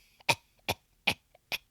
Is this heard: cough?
yes